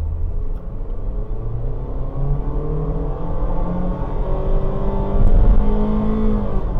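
A 2025 Honda HR-V Sport pulls away from a standstill in sport mode, its engine a steady, close rumble that climbs in pitch with a louder surge late in the run, and no one speaks.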